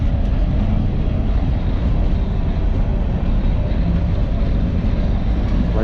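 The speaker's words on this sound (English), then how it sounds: "Okay, train's coming." A passing freight train fills the air with a loud, continuous rumble and rolling rail noise that holds steady throughout, close by and with no voices.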